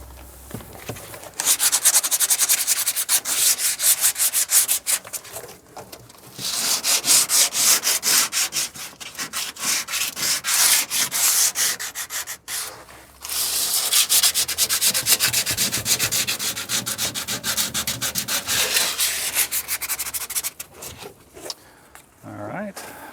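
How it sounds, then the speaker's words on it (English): Hand sanding of a 2007 Ford F-350 pickup truck bed, close rasping strokes in long bursts separated by short pauses, with a voice talking at times. "step one is sanding"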